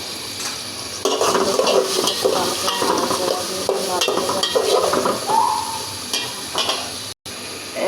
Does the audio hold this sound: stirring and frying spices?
yes